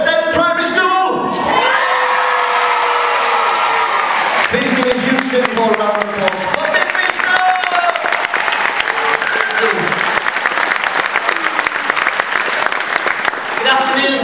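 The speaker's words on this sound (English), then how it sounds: "we want to give you a huge City Hall round of applause" A crowd applauds and cheers loudly and steadily in City Hall, with scattered shouts and whoops rising over the clapping the whole time.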